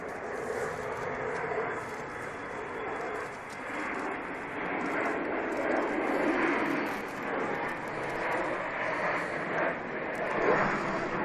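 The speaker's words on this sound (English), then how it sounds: "Embraer 145, destination Aberdeen." An Embraer 145 jet at Manchester Airport roars steadily at a distance, a broad, sustained engine rush that swells and eases slightly throughout.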